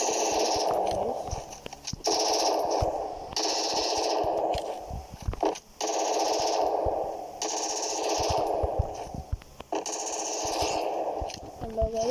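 Bursts of automatic gunfire from the Free Fire battle game rattle in repeated volleys with short gaps between them, loud and echoing, while a voice talks over parts of it.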